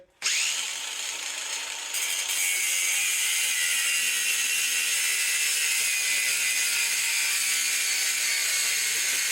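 A shop grinding wheel runs loud and steady after a sharp start, a continuous high whine and rasp as metal is pressed against it to throw sparks, with no talk.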